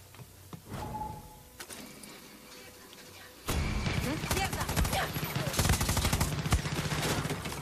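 Gunfire in the shooter game Far Cry 6: a few scattered clicks and thuds, then a sudden loud stretch of rapid, overlapping shots that keeps rattling to the end.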